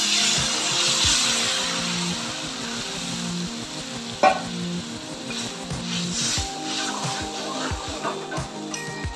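Strained mustard paste goes into a pan of fried fresh pond fish in hot oil, raising a loud, steady sizzle with a sharp spatter and scraping stirs close by.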